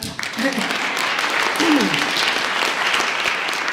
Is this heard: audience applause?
yes